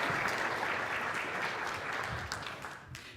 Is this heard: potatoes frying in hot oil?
no